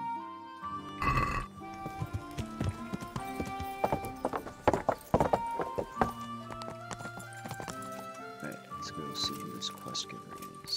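Horse hooves clip-clop in Kingdom Come: Deliverance, a medieval role-playing game, sharp repeated clops mixed with a whinny and game effects while a player talks over them.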